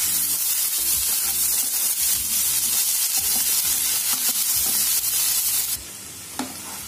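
Bamboo shoot (gaz tenga) fries in a pan with a dense, loud, continuous sizzle and scraping stirring, close up, easing to a quieter hiss near the end; no one speaks.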